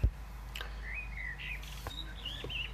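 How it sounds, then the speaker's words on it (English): Birds chirp and trill nearby over a low steady hum, several short bright calls scattered across a few seconds. "I like hearing the birds."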